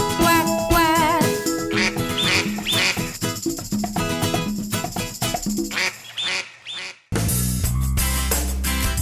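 Cartoon duck quacks from a children's nursery-rhyme song about little ducks, sounding repeatedly over a loud, busy musical backing before the music briefly drops out and returns.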